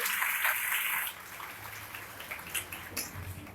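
A short burst of applause from a small audience at a makeup product training session fades after about a second into a few scattered claps in a quiet room.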